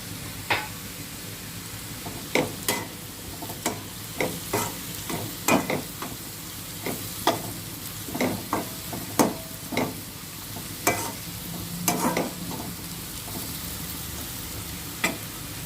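Carrots fry in a pan with turmeric as a spoon stirs them, sharp scrapes and clacks recurring every second or so over a steady close sizzle, with no talking.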